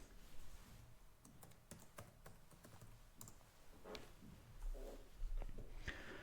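Faint, quick keyboard clicks as a short update command is typed on an OpenMandriva LX 4.0 system, scattered soft taps over a low background hiss, close but quiet, no talking.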